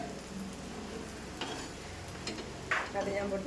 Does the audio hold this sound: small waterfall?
no